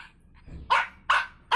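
A dog barks three times in quick succession, sharp and close, each bark loud and evenly spaced, with quiet gaps between and no talking.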